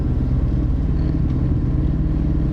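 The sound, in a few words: F40 kit car engine stuttering, running badly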